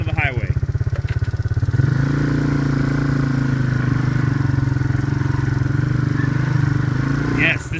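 A four-wheeler ATV engine runs close by, chugging at first and then droning steadily as it drives, with a voice briefly over it.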